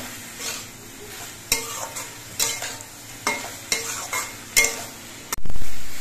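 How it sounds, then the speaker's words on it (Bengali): Taro stalks stirred with salt and turmeric in a pan: a steady sizzle under repeated scraping strokes of a spoon at an uneven rhythm, close and clear, ending in a louder clatter. "এবার সবকিছু নেড়ে চেড়ে মিশিয়ে নিতে হবে।"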